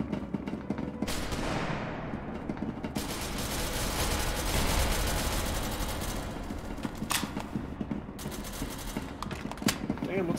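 Rapid bursts of automatic gunfire and scattered single shots in the video game SCP: Secret Laboratory, loud and close with metallic weapon mechanisms rattling between volleys, and voices talking in the background.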